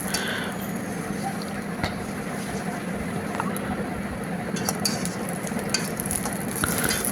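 Gunta ponganalu batter frying over a low flame in a pan makes a steady, close hiss of sizzling, with occasional light spoon stirring and scraping over it.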